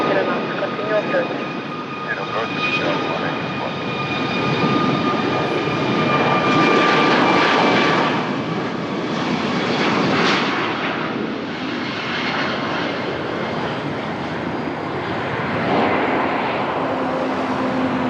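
A Boeing 737 departs Lisbon Airport with a continuous, loud jet engine roar that swells and eases over time, while radio voices talk underneath.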